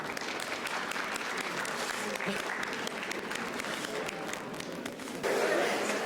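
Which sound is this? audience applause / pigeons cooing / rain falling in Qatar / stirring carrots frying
audience applause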